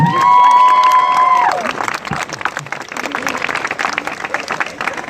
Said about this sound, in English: So should we give a round of applause to our students?